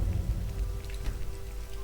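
Steady rain in Skyrim patters and hisses with a low rumbling bed underneath, continuous and moderately loud, no voices.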